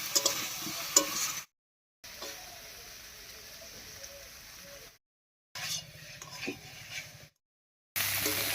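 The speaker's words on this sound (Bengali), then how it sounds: "এই অবস্থায় আলু বেগুনটাকে একটু ভাজা ভাজা মতো করে নেব।" Potatoes and eggplant frying and being stirred in a pan, a soft steady sizzle with occasional scraping clinks, broken by several short silent gaps.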